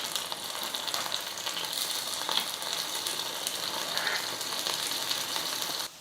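A varagu rice breakfast frying in a covered pan on the stove, giving a steady close sizzle with faint scraping and clinks as it is turned over, and no one talking.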